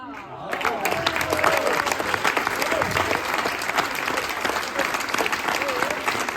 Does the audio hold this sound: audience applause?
yes